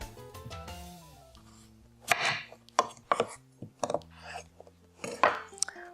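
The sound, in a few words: knife cutting red potatoes into wedges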